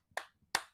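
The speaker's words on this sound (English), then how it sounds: "just hearing vague clapping" Two sharp hand claps about 0.4 seconds apart in an otherwise quiet room, close and moderately loud, with no talking.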